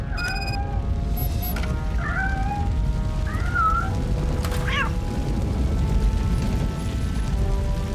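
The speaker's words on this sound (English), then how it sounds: "I hear a cat." In the RoboCop: Rogue City video game, a cat meows several times in short rising and falling calls over a loud, constant rumbling game background with mechanical hum.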